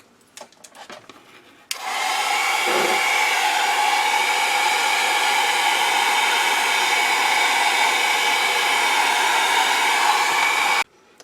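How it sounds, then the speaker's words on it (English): A heat gun drying a mixed media artwork switches on after a few light knocks and blows a loud, steady, close whoosh for about nine seconds before cutting off abruptly. "I'm going to take my heat gun and I'm going to go ahead"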